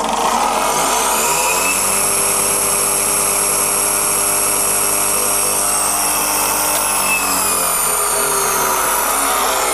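An Italian Induma IS/43 turret milling machine runs steadily with a loud, continuous mechanical whine and hum, speed sweeping gradually downward near the end, with no voices.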